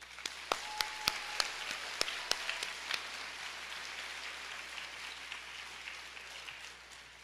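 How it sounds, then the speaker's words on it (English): A graduation crowd for Mount View High School's class of 2022 applauds at a distance, faint and dense, with a few sharper claps standing out near the start. "Let's give them a round of applause"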